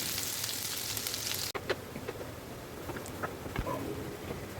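Raw onions frying in oil until light brown for hilsa pulao, a dense, crackling sizzle throughout with a brief cut early on and scattered pops, heard close with no voices.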